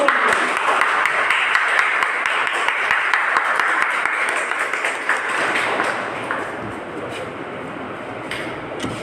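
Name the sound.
audience applause welcoming a mentor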